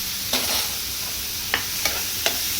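Finely chopped onion frying in oil in a pan, a steady close sizzle with a few brief scraping stirs spaced through it, no talk.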